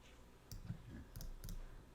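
Three crisp computer mouse clicks land about half a second apart while someone clicks and drags in Canva, quiet and close against a soft background hum, with no talking.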